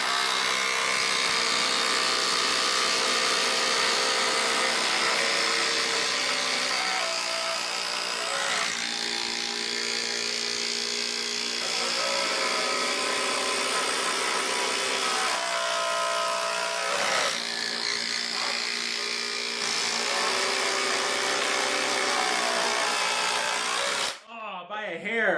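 A Dewalt impact driver runs in a head-to-head contest against a Ryobi, producing a loud, sustained motor whine with shifting pitch for over twenty seconds before cutting off abruptly near the end.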